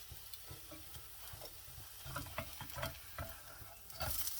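A stuffed sabudana paratha cooks on a pan over medium-high heat, giving a steady close sizzle with scattered stirring or scraping knocks that grow louder toward the end.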